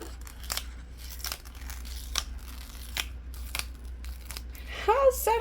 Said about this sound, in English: there is our clear vinyl, and we're just going to again just peel that away